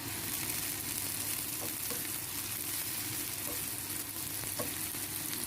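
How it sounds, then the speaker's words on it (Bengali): Green chillies and chopped tomato fry in a pan for a Bengali vaji, giving a steady dense sizzle with faint scraping stirs throughout, no voices. "কাঁচামরিচ দিয়ে দিলাম, ভুনে নিব।"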